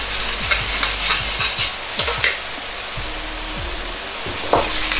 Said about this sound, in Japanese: 火は中火にして、砂糖水をお玉の底で混ぜていきます。